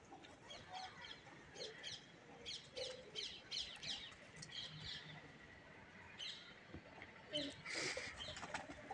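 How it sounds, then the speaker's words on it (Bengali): A flock of pigeons gathered to eat scattered rice, soft cooing and chirps with occasional wing flaps at moderate distance, quiet and intermittent under faint background voices. "আরও দেখো কত পায়রা আছে আজকে।"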